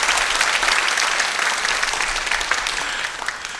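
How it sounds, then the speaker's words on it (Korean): An audience at a summer music school concert applauds the performers, a dense, loud burst of clapping from many hands that fades slightly toward the end. "우리 연주자들께 큰 박수 보내주시겠어요?"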